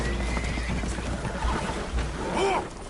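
Spooked horses whinny aboard a damaged boat taking on water in a PS4 video game, with a loud neigh near the end over steady background noise and light talk.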